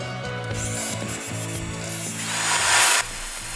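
A skew chisel shears across spinning wood on a lathe to finish the surface of a turned handle, a continuous rubbing, scraping tone over the machine's steady hum, rising briefly louder before cutting off.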